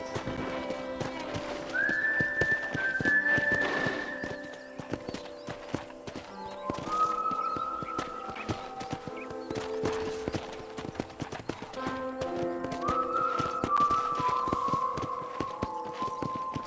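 Rhythmic clip-clop of trotting horse hooves throughout in the video game Red Dead Redemption, with occasional whinnies rising over the steady gait.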